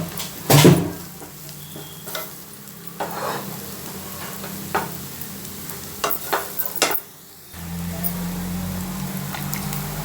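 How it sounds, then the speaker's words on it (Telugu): Ginger and onion fry in oil with turmeric as a spatula stirs them in the pan, making a loud close sizzle with scraping strokes and a few sharp knocks, then a steadier hiss near the end; no speech. "తగినంత పసుపు వేసుకొని కలుపుకోవాలి మంచిగా ఎందుకంటే అల్లం ఉల్లిగడ్డ కూడా మంచిగా నూనెలో వేగింది"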